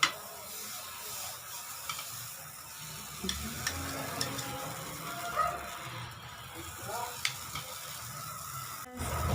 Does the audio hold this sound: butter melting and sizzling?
yes